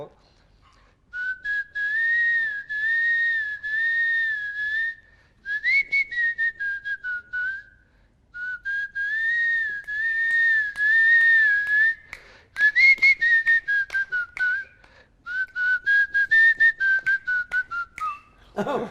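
Someone whistles a melodic tune in several phrases separated by short pauses, clear and close, with no other sound behind it.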